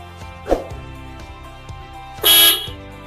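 A short loud horn blast on a Honda Click 150 V2 motorcycle, close, sounding for about half a second after a brief earlier honk-like burst.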